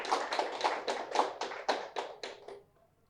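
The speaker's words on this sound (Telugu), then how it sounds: "గట్టిగా చప్పట్లు కొడతాం." A crowd at a birthday celebration in Vijayawada claps in unison, about ten strong rhythmic claps, each one loud and distinct, before stopping abruptly.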